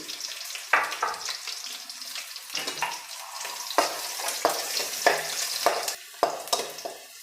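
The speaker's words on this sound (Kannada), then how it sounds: "ಈಗ ಬೆಳ್ಳುಳ್ಳಿ ಫ್ರೈ ಆಗಿದೆ" Crushed garlic with cut dried red chillies sizzles in hot oil in a pan, a close crackling hiss punctuated by repeated sharp scrapes and stirring bursts, with no voices.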